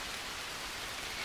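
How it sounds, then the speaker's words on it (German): Steady, dense rain falls in a jungle in the video game Green Hell, a continuous hiss with no breaks and no voices. "Und es regnet."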